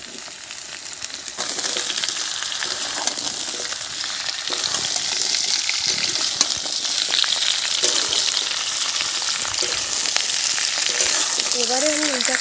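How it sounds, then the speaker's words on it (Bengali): Onion, potato and Malabar spinach stems frying in oil in a pan, a loud continuous sizzle with occasional scraping and clinks of stirring, close by throughout. "এবারে আমি এইটাকে ভাজতে থাকবো 5 মিনিট"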